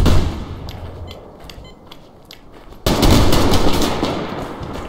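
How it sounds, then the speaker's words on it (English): A grenade launched in the video game Survarium, heard as a sudden loud burst that jumps up midway and holds as a sustained roar after quieter background gunfire and ambient noise. "Fire a grenade in there, huh?"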